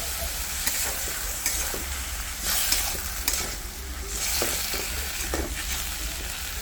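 Hilsa fish head stirring and frying in a pan, a steady sizzle with repeated scraping strokes of the spoon throughout, fairly close and alone.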